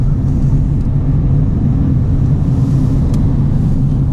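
A car rounds a sharp curve on an Icelandic road, its interior filled with a loud, steady low road rumble and engine drone that stays even throughout.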